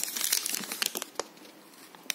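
A new thin plastic bag holding brown eggs crinkles and rustles in quick, close bursts at an ATB supermarket checkout in Ukraine, loud at first and then thinning to a few sharp crackles.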